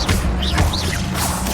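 A Stupefy spell cast in Hogwarts Legacy, heard as a short whooshing blast followed by an impact thud, loud and close.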